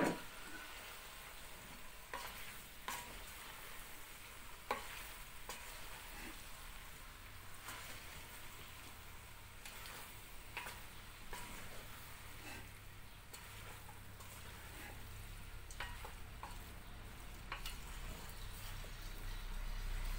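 Washed potatoes stirred in a pan, giving a steady, quiet frying crackle with scattered scraping stir strokes throughout, no voices.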